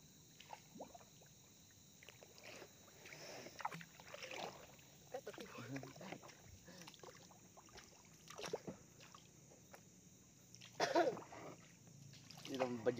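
A jukung canoe moves along a river, giving soft intermittent paddle strokes and small water splashes and dribbles, fairly faint, with a short louder splash burst late on and occasional voices talking nearby.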